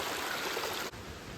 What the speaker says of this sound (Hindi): कभी बहते हुए पानी के ऊपर आपने ट्रैक करा है